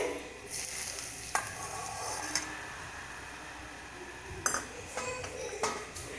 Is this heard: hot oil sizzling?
yes